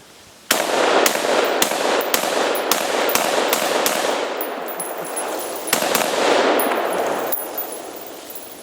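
A rapid series of gunshots blasts a pumpkin, about a dozen sharp loud reports in quick succession, then two more after a short pause, each ringing out briefly against open surroundings.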